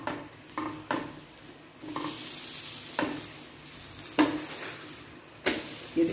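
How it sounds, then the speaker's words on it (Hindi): Lachha paratha fries on a pan over a medium flame, a steady soft sizzle broken by several sharp scrapes and presses of a spatula. "इसको भी मीडियम फ्लेम पे अच्छे से क्रिस्प होने तक हम पकाएंगे।"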